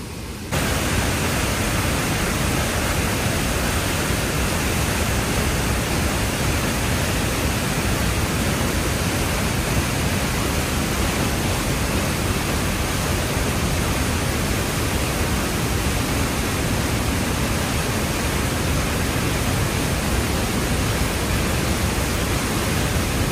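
Devi's Fall waterfall in Pokhara roars as a continuous broadband rush of falling water, loud and unchanging, with no voices.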